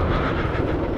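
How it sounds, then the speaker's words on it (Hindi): Army helicopters pass by near a border area, a steady loud rotor and engine roar filling the brief moment with no other sounds. "वो देखिए आर्मी के हेलीकॉप्टर जा रहे हैं"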